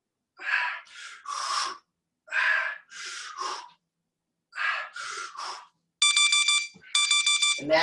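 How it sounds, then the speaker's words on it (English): A workout timer alarm sounds to end an interval: two loud bursts of steady electronic beeping close by, following a run of heavy, gasping breaths. "Going to the alarm."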